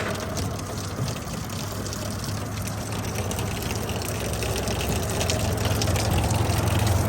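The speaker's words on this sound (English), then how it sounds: "We'll have to wait for all the water to escape." Rainwater gushes steadily and loudly from a gutter outlet at a house fascia, a continuous close rushing wash that holds for the whole stretch with no voices.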